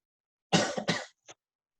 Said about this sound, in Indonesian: Aduh batuk, aduh batuk.